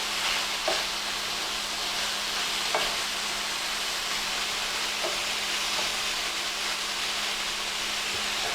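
Black beans sizzle and crackle steadily in a hot frying pan for a taco salad, a continuous close hiss with a few faint clicks and stirring scrapes, no voices.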